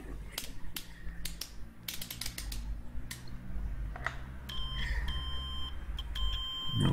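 Electronic fuel pressure meter in Car Mechanic Simulator 2018 emitting sharp, repeated beeps and ticks over a steady low mechanical hum, clustered near the start and again toward the end.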